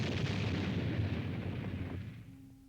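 Briefcase time bomb explosion in an officers' meeting room, heard as a loud, sustained roaring blast with rumbling debris that fades toward the end; no talking.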